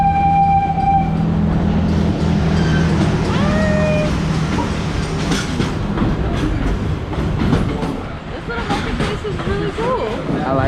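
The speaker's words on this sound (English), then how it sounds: "the train that goes to Rafiki's Planet Watch is gonna come right by" A train bound for Rafiki's Planet Watch at Animal Kingdom passes by with a steady rolling rumble and some clatter, heard close. It continues for about ten seconds over a crowded theme-park background, with voices and fans.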